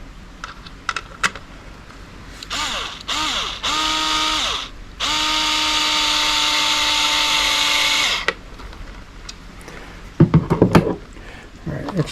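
A cordless power drill drives a bolt while mounting a YakAttack LockNLoad fish finder mount on a kayak, whining up and down in several bursts, the longest a sustained few-second run, surrounded by small clicks, handling noises and rattles.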